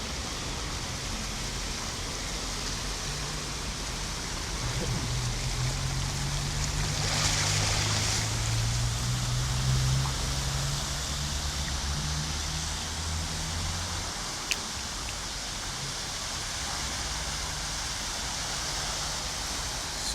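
Heavy rain and rushing water in Goiânia make a steady, loud broadband roar that holds evenly throughout, with a low rumble swelling in the middle and one sharp tap near the end.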